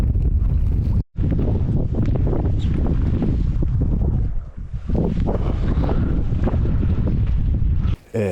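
Strong wind roars steadily across the microphone on a Nordic island, a loud and unbroken rush that drops out briefly twice, with no talking.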